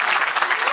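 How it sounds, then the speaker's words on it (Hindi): Brief burst of applause from guests at a family betrothal celebration, dense steady clapping filling the whole moment, fairly loud and close. "सबसे पहले मैं पूरे राठी परिवार का जोरदार तालियों से अभिनंदन करना चाहता हूँ"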